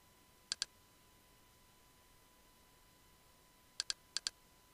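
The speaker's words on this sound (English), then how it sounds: "Let's go and click that." Sharp computer mouse clicks in a quiet room: a quick double click, a long pause, then two more rapid double clicks close together, with no talking.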